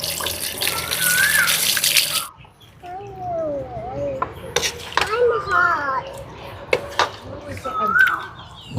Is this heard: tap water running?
yes